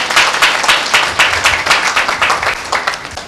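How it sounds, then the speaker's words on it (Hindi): An audience at a church meeting claps hands together in a quick, rhythmic beat, loud and close, with regular pulses running through the whole stretch. "जो लोग समझ गए वो ताली बजाएंगे"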